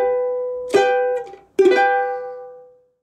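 A ukulele plays the intro of Here Comes the Bride as two strummed chords, the second held and ringing out until it fades to silence.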